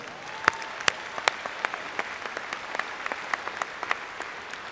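A commencement crowd at Metropolitan Community College in Kansas City applauds in a large hall. A steady roar of clapping runs throughout, with distinct sharp claps popping out of it.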